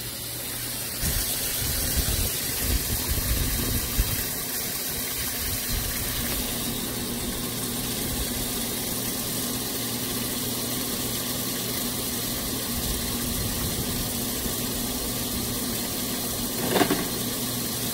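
A home water system pump, set in bypass, drives water rushing through pipes near a leaking pressure tank, a loud, steady, continuous drone that runs unbroken with no talking.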